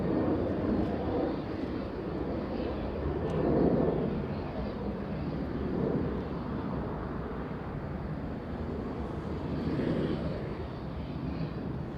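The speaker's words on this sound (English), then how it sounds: "Skywest 6282 flying in from Seattle, Washington, and Embraer E175." A SkyWest Embraer E175 jet arriving from Seattle at Los Angeles International Airport gives a steady, moderately distant engine rumble with gentle swells, heard alone without talk.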